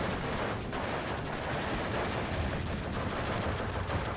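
Machine guns trade crossfire in the Steel Division 2 video game, a dense, steady wash of distant rattling fire with no clear pauses, blended into a continuous battle roar.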